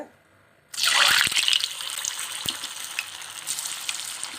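Rolled prawn balls drop into hot oil, which bursts into a loud, close sizzle and then settles into a steady crackling fry with small pops; the clip opens with near silence.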